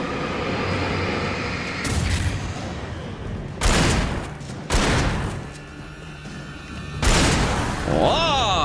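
Rapid bursts of gunfire from shooting in the Alan Wake video game, several loud broadband volleys separated by brief gaps, with a steady game background underneath.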